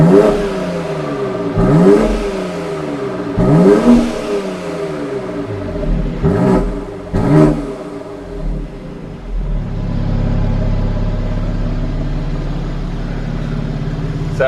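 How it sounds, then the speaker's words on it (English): BMW X3M Competition engine revved hard several times from behind the car, sharp rises and falls up close, then settling into a steady low rumbling idle. "So, Tony, do you want to go around the back and we'll just give it a quick rev test?"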